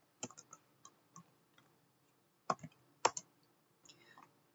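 A Linux command is typed on a computer keyboard as a few quiet, close keystrokes in uneven bursts. The clicks are separated by pauses and a couple of louder key presses, with no talking.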